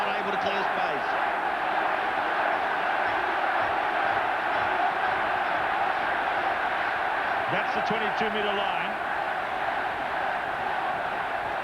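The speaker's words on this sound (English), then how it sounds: "Tremendous cheering for the home team from the capacity crowd" A capacity crowd at a 1994 All Blacks versus South Africa rugby test in Wellington roars in a steady, distant wash of cheering, with a commentator speaking over it.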